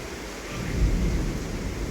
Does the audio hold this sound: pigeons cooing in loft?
no